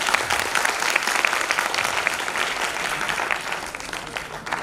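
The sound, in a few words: audience applause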